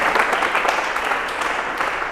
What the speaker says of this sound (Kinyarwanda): Murashobora gukoma amashyi twakira umurongozi.